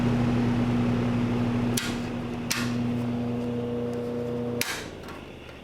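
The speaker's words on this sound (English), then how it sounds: "Yep, the hub slipped all the way to the motor." A 1960 ILG WindowAire window fan with a slipping hub, its motor humming steadily while a few sharp knocks or clunks ring out and the hum shifts pitch, close by with no talk.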